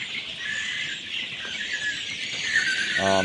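Egyptian Fayoumi chicks on a Cumilla poultry farm keep up a constant shrill peeping from a crowded group. The sound is close and even throughout, and a short buzzy tone cuts in near the end.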